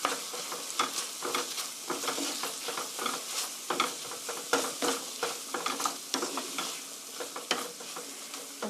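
Tomato sauce with Dijon mustard being stirred in a pan for rigatoni, a dense continuous sizzle and bubbling with quick scraping strokes, close and fairly loud throughout, no voices.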